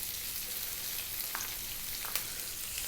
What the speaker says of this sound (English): And then goes in our onion.